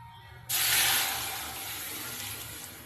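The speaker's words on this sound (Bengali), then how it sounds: "এবার ডালটা কড়াইয়ের মধ্যে দিয়ে দেবো ফোড়নে" Lentils poured into a hot wok of tempering spices burst into a sudden loud sizzle. The hiss then settles into a steady, slowly fading crackle.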